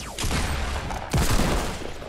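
Rapid gunfire from a Fortnite Battle Royale match, a dense burst of several overlapping shots with a louder crack partway through, heard alone with no talking.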